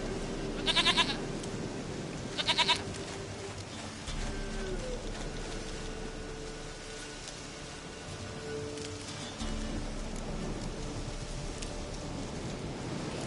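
Two short, bright goat bleats ring out early in The Witcher 3, set against a steady rain-like game ambience that continues for the rest of the stretch.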